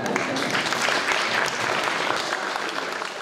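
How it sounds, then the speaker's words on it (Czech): Conference audience in a hall applauding steadily and densely for the full length, a close, continuous wash of many hands clapping with no talk above it. "zatleskejte si, děkuju vám"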